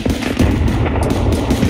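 Gunfire in the video game Escape from Tarkov sounds as a loud, dense burst of rapid shots, close and continuous with no talking over it.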